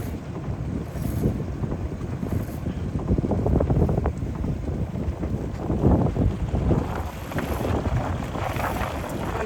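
Worker boat engines drone steadily on the Intracoastal Waterway near Belhaven, North Carolina, with wind buffeting the microphone and faint splashing throughout.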